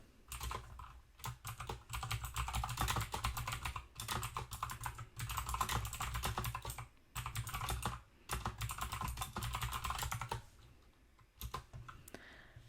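Rapid typing on a computer keyboard while composing a short outage notice for a z/VM logon screen, with dense bursts of key clicks broken by brief pauses, close and steady throughout.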